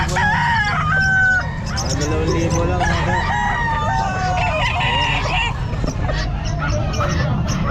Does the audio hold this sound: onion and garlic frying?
no